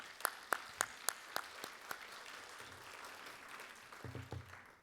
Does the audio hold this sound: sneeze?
no